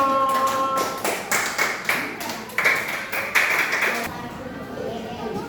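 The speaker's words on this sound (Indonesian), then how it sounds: "ayo kita kasih tepuk tangan buat teman-temannya" Elementary school pupils in a classroom clap for their classmates in a rhythmic patterned cheer, sharp bursts of clapping in repeated groups, with children's voices and chatter around them before the clapping stops.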